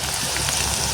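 Food frying in hot oil in a home kitchen, giving a dense, steady sizzle and crackle that fills the whole second, close and even, with no talk over it.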